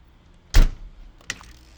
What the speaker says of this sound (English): This is the side door. That's how they get in the side of the ambulance.